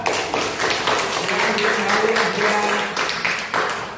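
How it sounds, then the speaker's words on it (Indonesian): A classroom of fourth-grade pupils claps for group 3, a dense, steady patter of many small hands that fills the space for the whole stretch, with a teacher's voice briefly audible over it. "tepuk tangan untuk kelompok 3"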